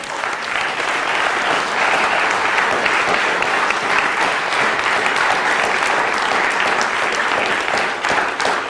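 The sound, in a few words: audience applause at a lecture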